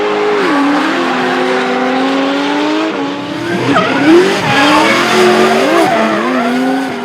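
An R34 Nissan Skyline drift car at a D1NZ drifting round in Christchurch, with loud, sustained tire squeal and skidding over revving engine tones that rise and fall as the cars slide through the course.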